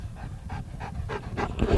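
A dog pants close by in quick rhythmic breaths, about six short puffs, growing slightly louder toward the end.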